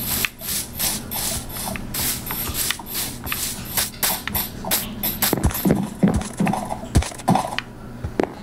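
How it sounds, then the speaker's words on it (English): A slow donkey walks, its hooves knocking out an irregular series of sharp, close clip-clops over a rough scuffing, shuffling background. "So guys, I got my donkey. He's pretty slow. Come over here, donkey."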